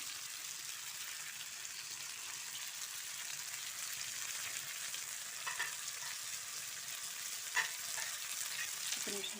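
Tempering spices sizzle in hot oil with a steady, fairly quiet hiss, a few faint clinks of stirring scattered through, and no talking.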